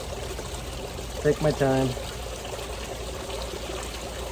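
Water trickles and flows steadily while gold concentrates and black sand are washed, a soft continuous pour with a brief spoken phrase over it partway through.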